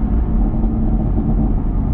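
A 2022 Rapid Blue Chevrolet Camaro SS 1LE with a manual gearbox cruises in fourth gear in track mode, its engine a loud, steady deep rumble with a muffled, continuous exhaust drone heard from inside the car.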